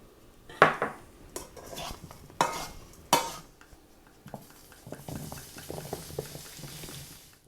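Metal clanks and scrapes as a sheet tray goes into an oven, with a few sharp knocks up front and lighter rattling and clinking after, close by in a quiet kitchen.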